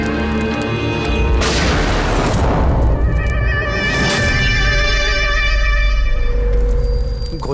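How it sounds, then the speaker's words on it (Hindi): A gunshot in a crime drama scene lands as a loud, sudden boom followed by a ringing, tonal tail and a second sharp burst, over a tense musical drone. "गोली चलने की आवाज थी यार"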